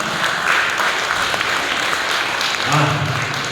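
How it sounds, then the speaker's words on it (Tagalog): A church congregation applauds during a Sunday revival service, a steady patter of clapping with a voice speaking over it toward the end. "Malakas pa ang palakpak ninyo eh."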